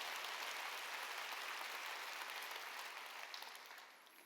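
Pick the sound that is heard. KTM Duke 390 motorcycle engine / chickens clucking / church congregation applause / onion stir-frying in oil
church congregation applause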